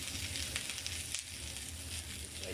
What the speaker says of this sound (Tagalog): Tapos igisa ko na yung bawang.